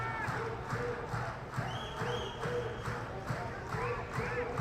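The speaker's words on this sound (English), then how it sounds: "Cheer from the Sri Lankan fans." Sri Lankan fans cheer and shout in a stadium during a SAFF U20 Championship football match against Bhutan, a steady distant crowd roar under continuous commentary.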